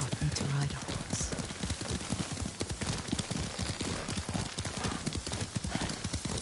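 Horse hooves clip-clop in a steady, rapid rhythm as a rider travels on horseback in Ghost of Tsushima. The hoofbeats continue throughout the clip at an even loudness, close up, over ambient game sound.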